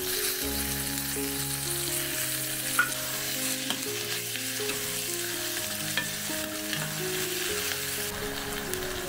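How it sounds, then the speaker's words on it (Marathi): Onion frying over medium heat in a pan for an okra dish, a continuous soft sizzle with faint stirring clicks, steady and close without any talk. "आता आपल्याला हा कांदा मध्यम आचेवरती फ्राय करून घ्यायचा, थोडासा मऊसूत होईपर्यंत"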